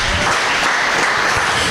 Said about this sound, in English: I'm going to get a round of applause for Michael.